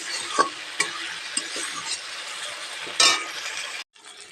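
Ginger and green chili paste is stirred in a hot frying pan, giving a soft steady sizzle with a few scattered clinks of the spoon against the pan, close by, before the sound cuts off abruptly.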